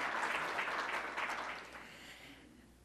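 An audience at a pro bono seminar applauds in a dense, steady wash of clapping that fades gradually toward the end; fairly loud and without voices.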